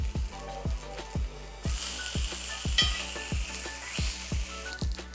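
Onion rings fry in a pan for a burger, a steady sizzle with a regular series of sharp thumping beats underneath and a louder burst of hiss midway.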